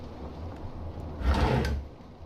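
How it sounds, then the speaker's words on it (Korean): A drawer slides open in the horror video game Project Nightmare, a low wooden rumbling scrape lasting about half a second over quiet ambient background. "어 서랍도 열 수 있고요"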